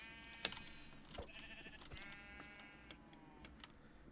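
Faint sheep bleats from the video game Minecraft sound on an open plains area, a couple of short wavering calls over a quiet background with light ticking sounds.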